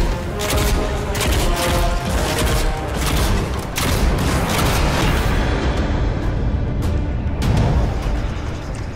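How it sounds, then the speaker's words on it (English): Viscous cannon bombs in the Nosgoth video game go off as a dense, continuous barrage of loud booms and crashing blasts, with repeated sharp detonations layered over a constant rumbling roar for the whole stretch. "viscous cannon bombs don't explode on impact, instead detonating a few moments after its adhesive properties take hold."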